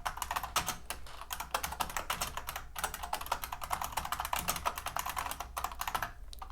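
Quick, uneven keystrokes clatter on a computer keyboard, a dense run of light clicks with brief pauses, close and fairly quiet with no talking.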